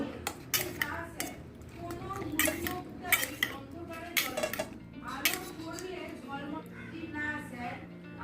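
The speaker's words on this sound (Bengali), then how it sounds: "মাছগুলোকে দিয়ে দিলাম মশলার মধ্যে এবার মিশিয়ে নেব" Fish pieces are mixed into a spice paste with tomato sauce in a home kitchen, with irregular clinks and scrapes of a utensil against a metal bowl and soft background voices.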